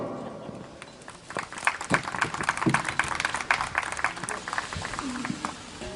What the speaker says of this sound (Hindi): तालियों के लिए बहुत बहुत धन्यवाद